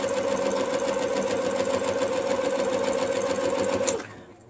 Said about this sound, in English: we're going to start sewing these together